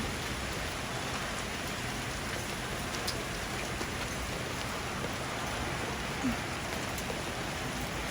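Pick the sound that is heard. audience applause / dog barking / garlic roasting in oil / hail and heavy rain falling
hail and heavy rain falling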